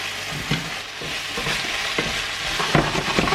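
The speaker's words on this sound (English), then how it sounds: "I'm gonna add in the mushrooms now because it's really starting to sizzle" Steady, close sizzling of courgette and mushrooms frying in a hot pan, with occasional clicks and scrapes of stirring.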